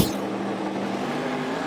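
Twin-turbo drag race cars accelerate hard down the strip, a dense, loud, continuous engine roar that holds steady for a short burst.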